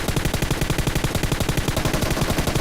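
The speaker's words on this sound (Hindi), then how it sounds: "अब यहाँ पे फायरिंग की साउंड आने लगी थी" Rapid automatic gunfire in PUBG Mobile, a dense, steady burst of shots repeating loudly and continuously throughout, with no talk.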